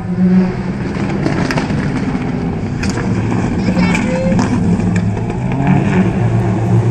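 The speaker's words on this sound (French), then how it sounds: "Donc derrière Vivien Massé avec la Subaru grise, bah, que voilà une nouvelle fois" Gray Subaru rally car in Group N running a special stage at the Rallye de la Lys 2011, a steady loud engine roar throughout with a commentator's voice over it.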